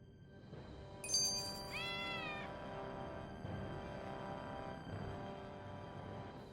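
A cat meowing in the video game Tales of Arise, one drawn-out rising and falling meow heard clearly over a soft steady background tone, with no talking.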